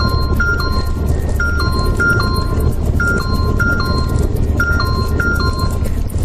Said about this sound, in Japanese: 今の音はね、私のサイバーナビの音です。